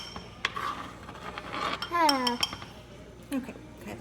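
Small dishes clink and tap as chopped onions go into a little bowl while cooking chili, a few light glassy knocks spread across the moment with a brief voice in the middle.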